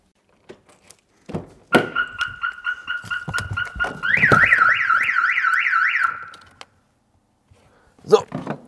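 An aftermarket alarm on a BMW 5 Series G30 blares nearby, cycling through a steady tone then a fast warbling whoop, with thumps and clatter before and a sharp knock after.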